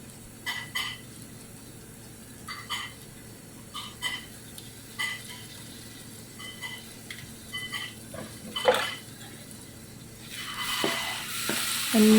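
Ginger garlic paste frying in a pan for chicken curry with onions, a soft constant sizzle broken by irregular scrapes and knocks of a spoon stirring, close and moderately quiet, with no talking.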